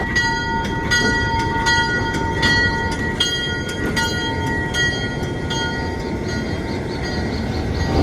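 Heritage locomotive 1835 moves at a railroad museum, a loud steady mechanical rumble with a sustained tonal whine and repeated sharp metallic clanks and clicks over the top.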